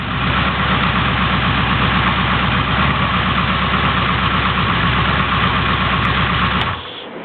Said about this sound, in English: Idling about 900 RPM, run very smooth.